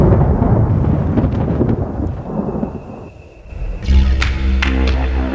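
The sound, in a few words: thunder in a lightning documentary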